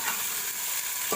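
Chicken fries with garlic ginger paste in a hot pan for an aloo chicken curry, a steady close sizzle with a brief stirring scrape near the end.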